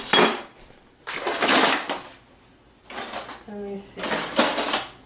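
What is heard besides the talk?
forks and cutlery clattering in kitchen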